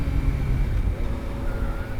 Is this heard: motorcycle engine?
yes